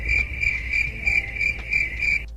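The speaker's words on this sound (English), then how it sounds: "Cricket sounds." Crickets chirping in a steady pulsed rhythm, about seven evenly spaced bursts of shrill trilling, fairly close and alone with no talk.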